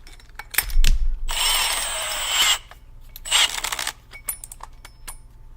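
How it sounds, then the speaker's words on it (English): A handheld power drill whirs in two bursts, the first longer and the second shorter, each rising to a high-pitched whine and then stopping. Clicks and knocks of handling surround it, and a low thump sounds near the start. "Get my drill."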